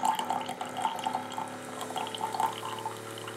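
A Keurig 2.0 coffee maker near the end of a brew, giving off a steady watery gurgling and dripping hiss with a faint underlying hum, moderately close and continuous.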